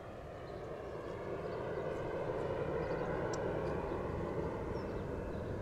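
Steady low engine drone of a propeller airplane passing overhead, continuous and fairly loud throughout, with no talking.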